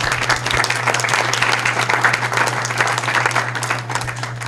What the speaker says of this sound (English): I want an applause for that.